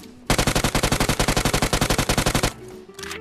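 Rapid burst of video-game gunfire, a long automatic string of evenly spaced loud shots for about two seconds, then a faint trailing sound, no talk.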